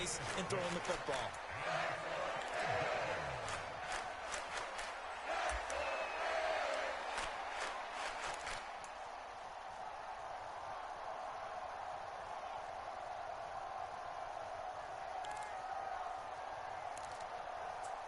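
Stadium crowd noise in the Madden 24 football game, a busy roar with bursts of cheering and clapping under a play-by-play commentator's voice, easing to a steadier wash later.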